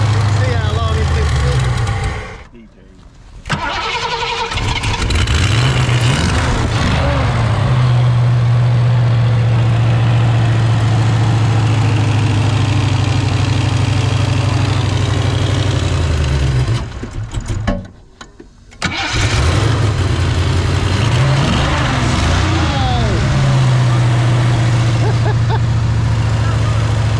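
A Fox body car engine struggling to idle, a loud, rough low rumble that runs for long stretches and cuts out briefly twice before catching again, with people talking faintly over it.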